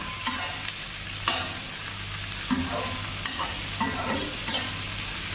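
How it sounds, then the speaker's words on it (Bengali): Onions fry in a pan for a mutton bhuna, a steady soft sizzle broken by repeated scraping strokes of a spatula stirring at irregular intervals, close by and with no voices. "পেঁয়াজটা ভালো মতো ভাজা নিব"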